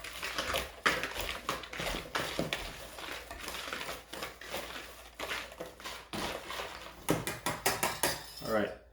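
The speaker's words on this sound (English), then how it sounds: "I'm just gonna mix that together with my whisk right here." A whisk mixes paprika and cayenne into flour in a bowl, making quick repeated clicks and taps against the sides, close up, with occasional talk.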